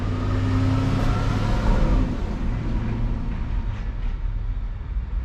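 A FedEx delivery truck rumbles past nearby, its low engine drone loud at first and then fading gradually as it moves away.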